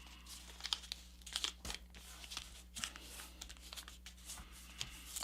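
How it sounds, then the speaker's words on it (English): Paper is creased and pressed flat into a rabbit ear fold for a competition paper jet, producing faint close crinkles, soft rubbing and a few sharp crisp snaps at an uneven pace. "We're going to push this in and rabbit ear fold"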